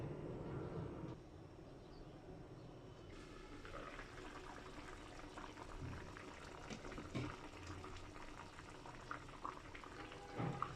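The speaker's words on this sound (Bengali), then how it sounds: "তরকারিটা ফুটে ওঠা পর্যন্ত আমি ঢেকে রাখবো।" Hilsa fish curry with potato and eggplant boiling in a covered pot, a steady low bubbling and hiss with a faint watery rumble throughout, no voices.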